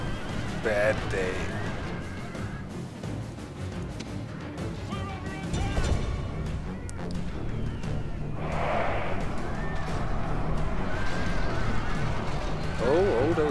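Horses whinny loudly a few times amid a busy battle din of hooves, clatter and crowd noise in the video game Rome: Total War, with a voice talking over it.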